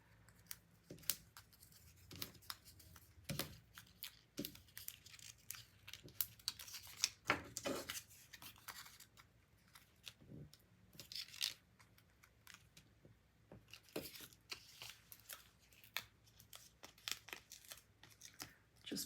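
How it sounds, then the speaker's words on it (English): Backing paper being peeled off small foam adhesive squares during scrapbook crafting, a series of soft, sharp tearing and crinkling bursts scattered irregularly over a quiet room, fairly close. "Just peeling off the backing here right into my garbage can"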